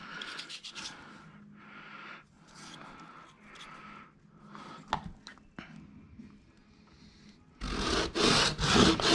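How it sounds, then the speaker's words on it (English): Hand-shaving a part of a WPL RC transmission makes rhythmic scraping and rasping strokes, close and fairly crisp, with bursts of quicker, harsher rubbing toward the end. "It's important to pay attention to how much you're shaving and how your angle is going as you go along."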